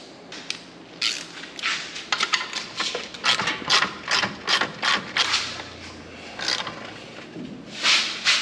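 A 1/2 inch ratchet cranks on a Can-Am Maverick X3 during a drive belt change, giving off quick bursts of metallic clicking in an irregular rhythm, up close and moderately quiet.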